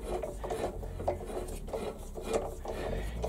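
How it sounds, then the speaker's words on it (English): Steady rasping and grinding of a metal tap cutting threads into cast iron, guided by a drill chuck, repeating in short strokes at close range, with no talking. "I'm just going to run the tap"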